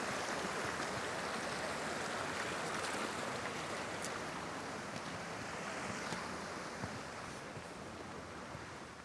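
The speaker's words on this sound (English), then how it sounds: "I have to cross the stream right here" A mountain stream flows near a trail to a waterfall, giving a steady, dense rushing wash that stays constant and moderately loud throughout, with no voices.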